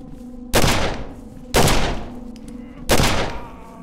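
Three loud, close Colt 45 pistol shots in the video game Condemned: Criminal Origins, evenly spaced about a second apart, each a sharp bang with a decaying tail.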